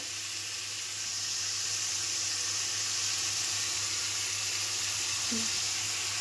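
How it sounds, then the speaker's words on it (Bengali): Potatoes frying in a pan for an egg-potato bhujia, a steady soft sizzle hissing continuously at moderate level with no talk over it. "এবার আলুটা একটু ফ্রাইয়ের মতো করে নেবো"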